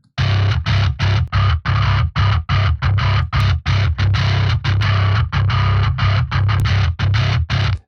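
Distorted bass guitar from a song plays a run of punchy, evenly spaced notes, each cut off by short gaps. The tone is loud and gritty, with a strong low end and bright string attack.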